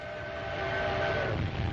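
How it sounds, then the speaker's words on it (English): A train rumbles and rattles steadily across open, desolate country in 1930s Ethiopia, a continuous low clatter with faint sustained tonal hums, moderately loud and alone without voices. "The train rattles across desolate country the Italians will have to fight across."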